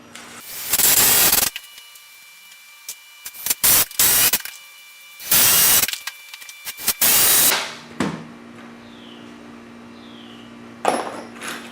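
3.5-inch screws driven into wood with a power driver to build a chainsaw mill guide: several loud bursts of a few seconds each with short gaps between them, then a quieter stretch of low hum near the end.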